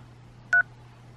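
A single short telephone keypad tone, a brief dual-tone dialing beep, sounds once over a quiet steady low hum.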